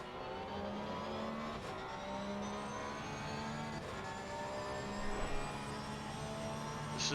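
Porsche 911 race cars accelerating at Zolder race circuit, a steady, loud engine drone with harmonic whine rising slowly, without clear pauses, racing sound filling the whole stretch.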